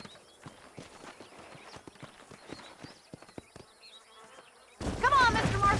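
Horse hooves clip-clop in the Red Dead Redemption video game, a steady run of soft close hoofbeats among faint insect buzzing, then a sudden loud burst of busier sound near the end.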